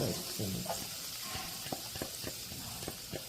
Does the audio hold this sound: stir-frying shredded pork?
yes